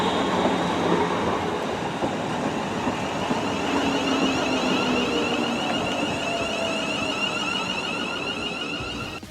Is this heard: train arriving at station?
yes